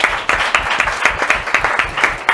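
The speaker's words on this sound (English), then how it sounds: "Everybody give a round of applause for Dr." A small studio audience claps for a speaker, the individual hand claps distinct and fairly rhythmic, fairly close and with no talking.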